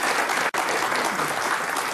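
Audience applause during a 1982 German television interview, a dense, continuous wash of clapping from many hands with a momentary break near the start, no voices over it.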